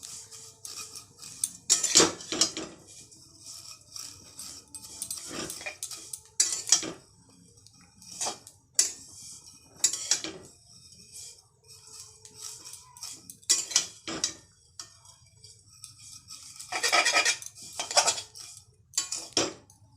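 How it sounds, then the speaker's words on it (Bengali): Metal utensils scrape and clink against a pan while vermicelli fries in ghee, in steady, irregular bursts of stirring, close by, with no talking. "বাড়িতে একটু ঘি দিয়ে ভেজে নিতে হয়"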